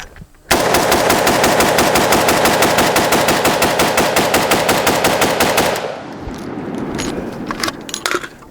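An AK47 rifle loaded with Xtech tactical magazines firing a long, rapid automatic burst of loud close shots for about five seconds, then stopping abruptly, followed by faint metallic handling clicks.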